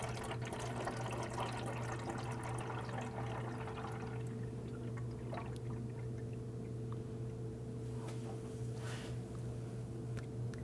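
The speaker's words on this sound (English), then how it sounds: "use the appropriate coolant to fill up that tank" Coolant pours through a funnel into the reservoir of a 2008-2011 Ford Focus, a steady liquid trickle and gurgle over a constant low engine-bay hum, with splashy bursts near the end.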